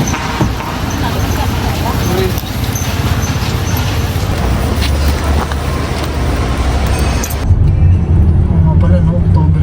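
A booked taxi car arriving and driving, its engine and road noise a steady rumble throughout while people talk nearby.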